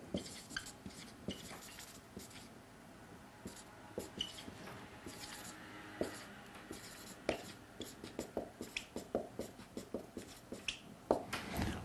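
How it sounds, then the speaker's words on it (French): Chalk or marker scratches and taps on a classroom board in short irregular strokes, quiet and close, with faint background noise between the marks. "je vais vous l'écrire."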